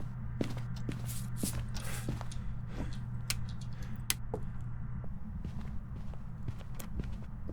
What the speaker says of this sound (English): I hear its footsteps without my flashlight flickering